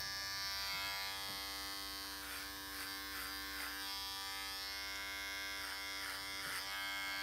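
Electric hair clippers buzz steadily and close up as they cut hair over a comb, a constant high hum with faint rhythmic changes as the blades pass through hair.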